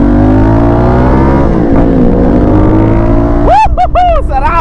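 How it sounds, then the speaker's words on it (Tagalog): A loud CFMoto 450MT motorcycle engine drones and revs steadily while riding, then a voice cuts in near the end. "Sarap naman ang motor na to"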